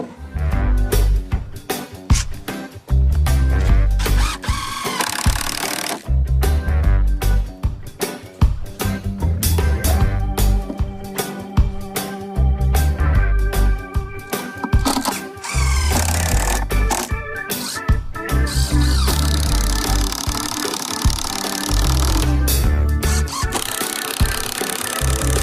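Pressure-treated wooden decking boards being screwed down for a terrace step, with bursts of a whirring power drill or driver, knocks and scraping of wood, loud and close with short pauses between runs.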